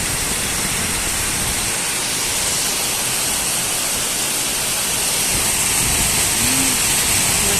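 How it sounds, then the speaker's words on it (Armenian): Heavy rain pours down in a dense, constant broadband hiss, loud and steady throughout, with no voices. "ինչ անձրև է տեղում"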